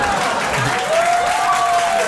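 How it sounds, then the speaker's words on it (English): Comedy club audience applauding a stand-up comedian, a steady broad wash of clapping from a packed room that holds evenly throughout. "y'all don't gotta clap"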